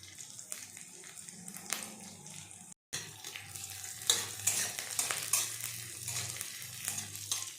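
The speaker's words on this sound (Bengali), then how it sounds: "এবার আমি এই তেলের মধ্যে একে একে দিয়ে দেব আদা কুচি, দিয়ে দিচ্ছি পরিমাণ মতো লঙ্কা কুচি," Chopped ginger and green chili fry in hot oil in a home kitchen, giving a steady soft sizzle with stirring scrapes, a brief gap in the middle, then a livelier crackle afterward.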